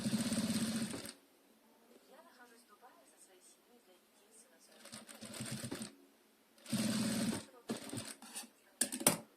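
Sewing machine running in short rapid bursts while stitching fabric for a Kazakh saukele headdress, with quiet pauses between runs and someone talking softly in between.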